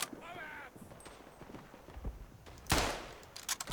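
Rifle fire in the World War I shooter Tannenberg, with a sharp, loud shot crack cutting through steady battlefield ambience and scattered distant gunfire, a few more rapid reports close at the end.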